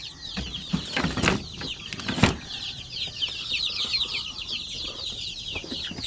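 Shamo aseel and zampen native chicks and chickens, newly hatched, fill the space with dense, continuous high peeping, with a few louder clucks and wing flaps near the start, all close by.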